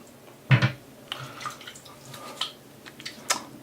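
Tap water splashes briefly over the face of a Merkur 37c or iKon 102 slant safety razor at a sink, a short close burst followed by scattered drips and light trickles.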